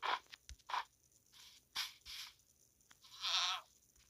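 A goat in Minecraft gives a series of short, separate bleats, fairly faint, with quiet gaps between calls and no talking.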